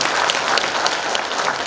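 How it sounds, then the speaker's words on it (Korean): An audience at a book-launch gathering welcomes a family with dense, loud applause. The clapping is close and sustained through the whole brief moment, with no talk over it. "큰 박수로 환영하겠습니다"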